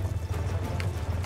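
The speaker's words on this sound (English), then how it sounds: "A horsey neighing." A horse neighs briefly amid rhythmic hoof clatter in a Call of Duty Black Ops 2 video game, close and moderately loud, with no talking.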